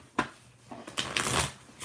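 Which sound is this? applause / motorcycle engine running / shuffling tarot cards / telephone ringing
shuffling tarot cards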